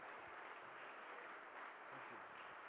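An audience at a men's church conference applauds in a steady, dense wash of clapping that fills the whole moment without a break.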